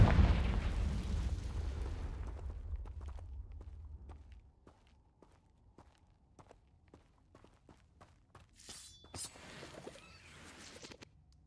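Confringo fire blast spell in Hogwarts Legacy bursts with a heavy low explosion that rumbles for a couple of seconds, followed by footsteps and sparse ticking, then bright chiming magical effects near the end.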